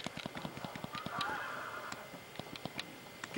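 A duck in the Red Dead Redemption video game gives repeated honking quacks amid rhythmic hoof clip-clops and footsteps, moderately close and fairly quiet.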